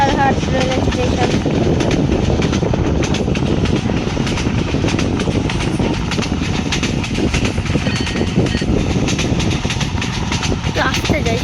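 A train rolls on in a Bangladesh train simulator game near Fauzdarhat railway station, a continuous loud rumble with faint rhythmic clatter and a few brief higher squeals running under the engine's drone.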